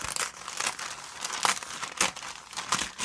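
A sheet of perforated packing paper is trimmed by hand, giving close, loud crinkling and tearing bursts that come in irregular sharp spurts over a few seconds, with no talking.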